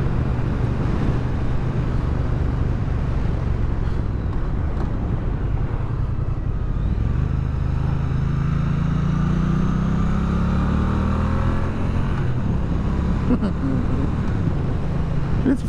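A 2023 Triumph Bonneville T120 motorcycle cruising down the road, its steady engine drone running continuously with rising and falling tone as it rides, heard close and loud throughout under wind rush.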